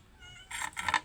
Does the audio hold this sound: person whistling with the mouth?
no